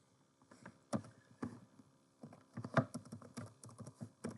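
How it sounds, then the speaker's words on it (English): Someone types on a computer keyboard, giving quick clusters of light, close key clicks with short pauses between bursts. No one speaks. "Let me again type this."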